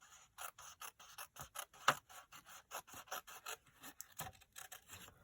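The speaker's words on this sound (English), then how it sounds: "I'm going to cut up this diagonal line here." Scissors cut through card along a diagonal line in a series of crisp, close snips and rasping slides, evenly spaced over several seconds, with no talking.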